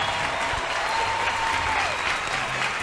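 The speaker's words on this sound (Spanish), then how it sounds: "¡Fuerte el aplauso!" A live audience at an outdoor tribute show at Mirador América claps loudly and continuously, a thick sustained roar of hands with faint tones and crowd murmur underneath.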